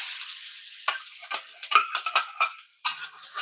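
Onions sizzle in a cast iron pan over lowered heat, a steady frying hiss broken by sharp scrapes and clatters of quick stirring, close and fairly loud.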